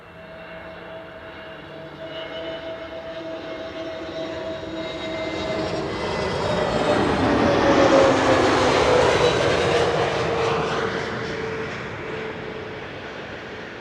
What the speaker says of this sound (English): EasyJet flight 28674 arriving from London Gatwick.